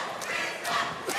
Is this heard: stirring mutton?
no